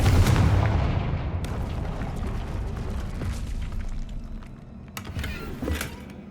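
A Confringo blasting spell in Hogwarts Legacy erupts as a loud, close explosive boom that fades into a rumbling tail, with further crackling impacts near the end.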